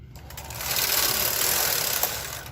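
A knitting machine carriage slides across to knit one row of fancy stitching on a cardigan front, a brisk mechanical whir that swells, holds and fades within a few seconds, close and alone.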